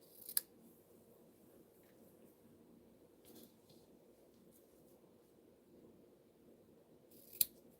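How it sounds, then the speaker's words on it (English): Two crisp scissor snips trimming the ends of tied ribbon in a craft studio, one early and one near the end, separated by a quiet stretch of faint handling noise. "And then we're going to trim our ends."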